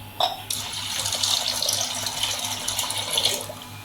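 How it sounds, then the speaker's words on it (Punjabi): Water splashes steadily into a pan, like running from a tap, while jaggery vermicelli is being made. The pour starts with a short burst and continues for a few seconds, close and fairly loud, with no talking. "ਆਪਾਂ ਪਾ ਲਵਾਂਗੇ ਪੈਨ ਦੇ ਅੰਦਰ 2 ਗਲਾਸ ਪਾਣੀ ਦੇ"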